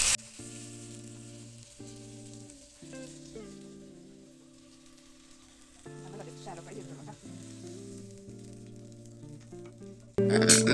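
Fish frying in coconut oil in a pan gives a faint, steady sizzle under background music, swelling louder for a moment at the end.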